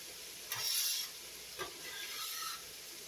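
Onions and peppers frying in a little oil in a pan, with a gentle sizzle and a few soft scraping stirs, fairly quiet and close.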